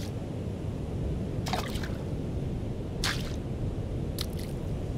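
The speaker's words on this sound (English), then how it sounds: "let me gather more water." Water gathered in the Aloft survival game makes three brief splashy squelches, evenly spaced over a low, steady background hum.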